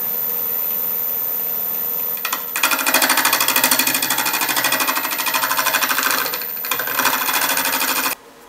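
A scraper works a square cottonwood burl bowl on a wood lathe spinning about 800 RPM, giving a loud rapid chattering rasp that starts, runs for several seconds with a brief dip, then stops.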